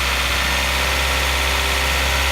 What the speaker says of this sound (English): I'm revving the car by my hand